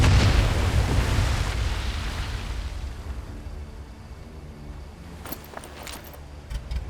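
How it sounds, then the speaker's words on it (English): A loud explosion in the video game Medal of Honor Above and Beyond, a heavy booming blast that slowly decays into rumbling debris, followed by a few faint metallic clinks near the end. "That explosion got the attention of all the German patrols in the area."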